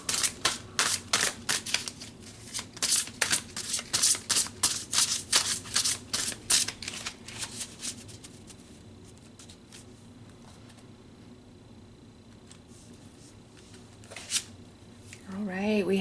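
Tarot cards shuffled by hand in a rapid run of crisp riffling snaps and flutters for several seconds, close and clear, then quiet handling, with a voice speaking at the end.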